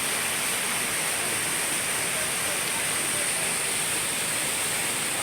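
Caunayan Falls, a waterfall in Aurora, pours as a constant dense broadband rush, loud and unbroken throughout, with no clear voices above the roar.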